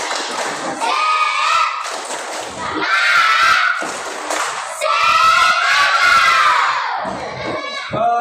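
A group of primary school children claps in a quick rhythmic pattern, shouting and chanting along loudly in a busy, echoing classroom.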